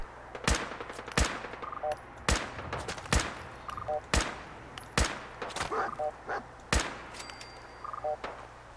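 Gunfire from a weapon in Fallout 4: a series of sharp, loud single shots spaced irregularly about a second apart, each with a brief tail, over quiet game ambience.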